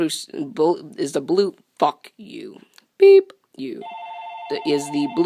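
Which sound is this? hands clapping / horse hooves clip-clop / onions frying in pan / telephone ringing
telephone ringing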